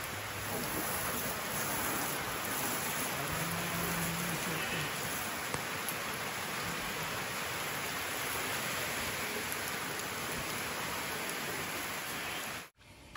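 Steady, dense rain falls on a farm, hissing evenly for the whole stretch without letting up, then cuts out abruptly near the end.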